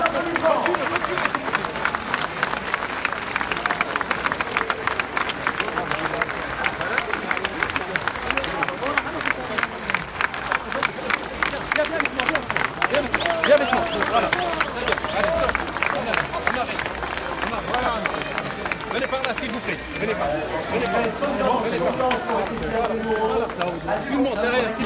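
A crowd applauds the winners at a prize-giving: dense, sustained clapping runs the whole time at steady loudness, mixed with crowd chatter and voices.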